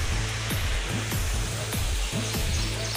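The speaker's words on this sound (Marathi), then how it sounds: "पाऊस जास्त झाला नसल्यामुळे धबधबा जास्त जोरात नाही, सध्या आहे ते छोटा आहे" Sahastrakund waterfall in Maharashtra, running with a small flow after little rain, gives a steady broadband rush of falling water that fills the whole moment without pause.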